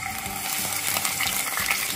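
Hot cooking oil in a pan sputters and crackles with a dense, bright sizzle, close up and steady, with quick popping bursts throughout.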